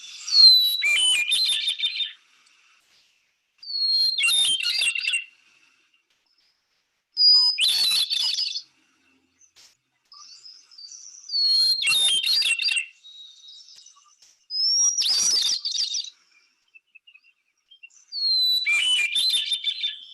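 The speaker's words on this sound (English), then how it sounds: "This is one you might hear in California, the hermit thrush." Hermit thrush song: six separate fluting phrases, each opening on a clear held note and breaking into higher shimmering trills, spaced by short silences, loud and close in a quiet setting.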